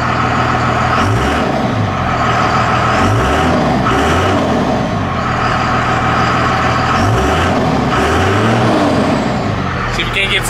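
A 2001 Dodge Ram 3500 dually with a Cummins diesel and six-speed is revved repeatedly, its loud, close engine note rising and falling in several bursts over a constant rumbling idle.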